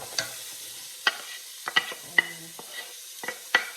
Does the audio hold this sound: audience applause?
no